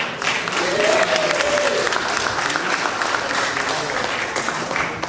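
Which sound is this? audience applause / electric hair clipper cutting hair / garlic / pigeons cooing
audience applause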